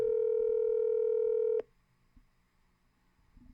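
A steady telephone tone sounds loudly for about a second and a half, then cuts off, leaving faint background noise from an unanswered call.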